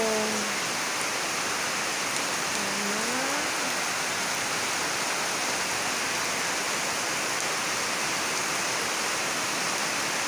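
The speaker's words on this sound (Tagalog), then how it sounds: "Kusog kayo sa ulan." Heavy rain pours down in a dense, steady hiss, loud and unbroken throughout.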